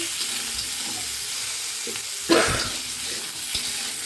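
Spices sizzle and fry steadily in a pan for a brinjal and tangra fish curry, with a clatter of stirring near the middle and soft scraping throughout.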